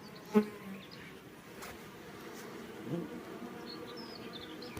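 Honey bees buzz steadily around the hives at an apiary near rapeseed, a soft continuous drone with a few insects passing close to the microphone.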